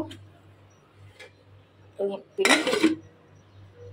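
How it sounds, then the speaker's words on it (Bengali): A metal lid set onto a pot of cooking dal makes a short clank followed by a brief rattling clatter, against a quiet kitchen with a low steady hum. "এখন ডালটা ঢেকে একটু বলক উঠায় নেব"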